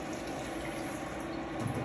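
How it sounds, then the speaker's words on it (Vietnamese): Water pours steadily into flour in a bowl for banana cake batter, a soft continuous splashing trickle close by with no pauses. "Mình cho nước vào để mình khuấy bột"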